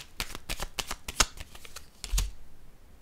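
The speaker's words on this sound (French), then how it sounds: "Je vais piger une autre carte." A deck of tarot cards is shuffled before a draw, a quick run of crisp riffling flutters and soft slaps close by, then settling to quiet.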